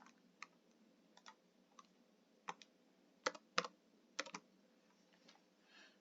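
Keys on a computer keyboard click in short, scattered bursts, a few isolated taps and then quick clusters of two or three, close and crisp against a quiet background.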